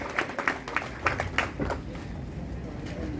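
Scattered clapping from an audience welcoming a guest at a Gujarati government disability aid event in Dediyapada, a few distinct claps early on giving way to softer, thinner applause with a murmur of voices.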